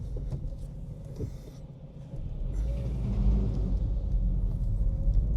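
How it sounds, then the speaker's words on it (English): A Ford Fiesta Mk6 heard from inside as it drives over bumps on a rough, dirty lane, with steady low engine and road rumble, occasional knocks and thumps, and the noise swelling partway through. "I'm on quite a dingy lane at the minute, so the car's experiencing quite a few bumps"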